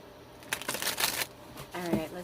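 A deck of tarot cards is shuffled close by in a few quick riffling bursts, with a voice speaking briefly between them.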